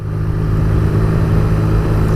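A 2017 BMW R nineT big-twin motorcycle engine with an Akrapovic exhaust runs at a steady, loud, deep idle-like drone, close up and with no talk over it.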